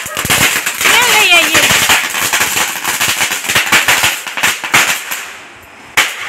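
Rapid strings of firecrackers burst loudly and close, crackling in dense irregular volleys with a whistling rocket early on, thinning out toward the end before one last sharp bang.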